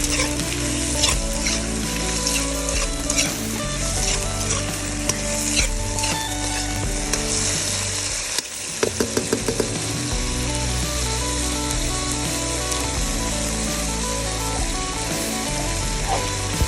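Frog stir-fried with basil and a little sugar in a pan, loud constant sizzle under repeated scraping and clanking stirs, with a short quieter moment midway, close and without talking.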